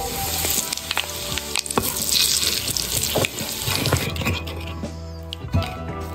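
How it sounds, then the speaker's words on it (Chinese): Hot oil poured over chili powder, white sesame, five-spice powder and salt, giving a loud, steady sizzle and crackle with bubbling and a few clinks, no voices. "再来做个辣椒油、辣子面、白芝麻、五香粉、盐，泼上热油"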